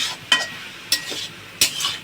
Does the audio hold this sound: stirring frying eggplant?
yes